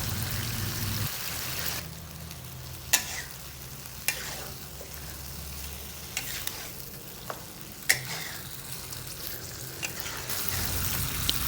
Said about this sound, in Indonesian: masukkan ikan tongkol dan masak lagi sebentar sampai bumbu meresap ke dalam ikannya